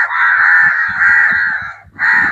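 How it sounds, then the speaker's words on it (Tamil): Crows cawing in trees in Jaffna: loud, close, drawn-out harsh caws, one long call followed by another after a brief break. "எல்லா மரங்கள்லயும் வந்து காக்கா கூடுதல் இருக்கு"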